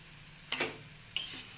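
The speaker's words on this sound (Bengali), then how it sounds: "ভালো করে নেড়ে চেড়ে ভাজতে থাকুন" Carrot halwa stirred and fried in ghee in a pan, heard as two short, close scraping stirs with a faint sizzle underneath, without any talk.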